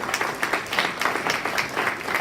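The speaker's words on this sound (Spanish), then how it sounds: "Denle un aplauso al Señor" A church congregation claps and applauds at the pastor's call during a sermon, producing a brief, dense burst of rhythmic clapping at moderate distance.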